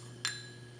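A glass watch glass gives a single sharp clink as it is handled and turned during a lab demonstration heating copper sulfate hydrate, the click standing out once over a steady low hum with no talk.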